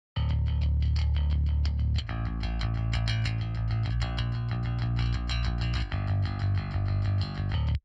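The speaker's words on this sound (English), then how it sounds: "So we have a pretty clean, clear, good old-fashioned bass tone here that sounds like this." Clean, clear old-fashioned bass guitar tone through an Ampeg amp head, playing steady sustained low notes under a dense full-band mix with distorted guitars and drums, loud and continuous.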